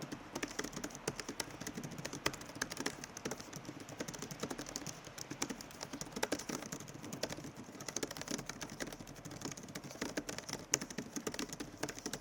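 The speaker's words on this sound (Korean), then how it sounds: "아무튼 타건 소리를 한번 들어볼까요?" Rapid, steady typing on a magic-keyboard-style keyboard case for an 11-inch iPad Air, a dense stream of light clacky keystrokes close by with no voices.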